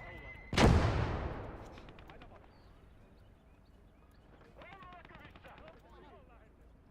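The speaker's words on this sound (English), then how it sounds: "we really need to take care of the mortar that's coming out" In the Gates of Hell: Ostfront war game, a mortar round lands as a single loud, close explosion with a long rumbling decay, followed by quieter battlefield noise and faint distant firing.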